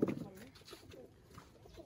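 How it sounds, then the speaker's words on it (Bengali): An old female Sapchila pigeon gives a low, soft coo at the start, followed by quiet room noise and faint sounds. "এটা কি কবুতর বলেন ভাই? এটার আমরা সাপচিলা কবুতর।"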